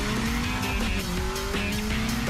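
Sports car on a road test, a model with a hydraulically shifted manual gearbox, drives past with a loud, steady engine drone and tire noise, rising slightly in pitch as it accelerates.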